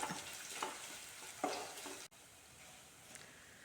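Raw mango curry ingredients sauté in a pan with chilli added, a soft steady sizzle with scraping stirs, a couple of louder clatters, and a brief dropout midway before the low frying hiss resumes alone.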